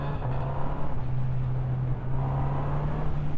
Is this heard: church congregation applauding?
no